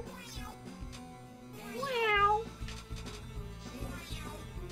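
A short cat-like meow sound effect from a task in Deltarune Chapter 2, rising and wavering once over steady background game music.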